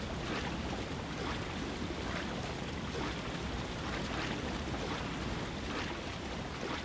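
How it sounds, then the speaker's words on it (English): A waterfall in the video game The Legend of Zelda: Breath of the Wild rushes in a steady, dense, unbroken roar of falling water that stays loud and even throughout. "Decent sized waterfall."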